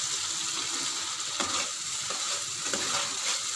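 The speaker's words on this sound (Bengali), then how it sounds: "মশলাটা কষে নিচ্ছি" Spice paste of mustard and poppy seed for a fish curry, stir-fried in a pan: a steady hissing sizzle fills the background while a few soft spatula scrapes surface now and then, close by, with no one talking.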